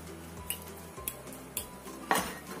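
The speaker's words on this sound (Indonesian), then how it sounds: "Ini kita pecek-pecek kentangnya itu sampai halus." Boiled potatoes mashed with a fork in a bowl, giving four sharp metallic clinks at regular intervals of about half a second, with softer scraping between them, close and alone.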